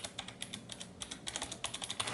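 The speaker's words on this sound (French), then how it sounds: "C'est un clavier mécanique, donc c'est vrai qu'il fait du bruit, hein. Quand je vais ouvrir une page et je vais taper ici" Fingers type briskly on a Razer backlit mechanical keyboard, producing a close, clattery run of crisp key clicks in an uneven rhythm with no speech.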